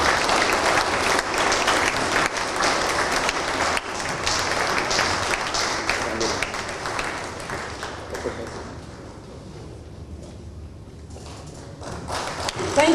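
Audience applause at a live outdoor stadium event, a loud continuous crowd clapping that runs strong for several seconds, thins and softens toward the end, then swells again, with voices mixed in.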